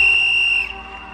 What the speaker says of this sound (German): Und mit dem Pfiff des Schiedsrichters geht es in die zweite Halbzeit des Spiels um den Town Club Pokal.